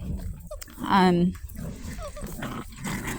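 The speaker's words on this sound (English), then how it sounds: "these are really great dogs" Young chocolate lab and brindle mastiff cross puppies give a short, whiny growling vocalisation close by, with a person talking over and around it.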